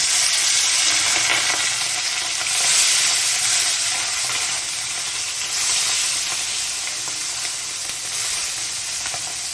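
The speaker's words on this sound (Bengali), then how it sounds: "তেল আমার গরম হয়ে গেছে, এবার অল্প অল্প করে মাছগুলোকে আমি ভেজে নেব।" Mola fish frying in hot oil in a kadai, a loud, close, continuous sizzle and hiss that swells gently now and then, with no voices.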